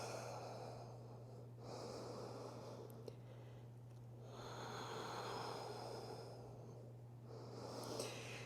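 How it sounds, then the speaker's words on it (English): Slow, steady Ujjayi breaths during a power yoga session, audible as long airy inhales and exhales, faint and close, repeating in an even rhythm over a low constant hum, with no talking. "Remind yourself of that Ujjayi breathing."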